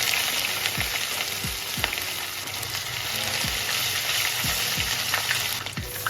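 Cumin seeds frying in hot mustard oil for a jackfruit sabzi, a steady close sizzle with occasional low thumps of stirring or handling, no voices.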